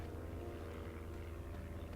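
A plane in the video game Sky: Children of the Light gives a quiet, steady propeller-like drone with a low, even hum and no variation.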